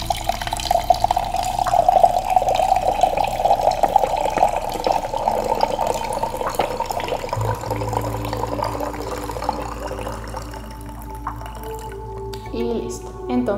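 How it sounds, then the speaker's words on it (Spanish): Water pours into a tea cup in a steady, close trickle that fades after several seconds, with light clinks and faint room noise toward the end and a voice talking over it. "Y al mismo tiempo pongo el agua."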